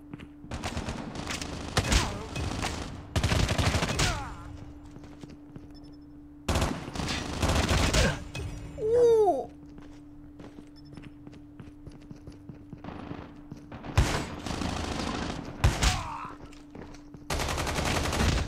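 Automatic weapons fire in Call of Duty Mobile during a Gun Game match on the Crash map comes in several loud, close bursts separated by short lulls, with a faint rattle of movement between them.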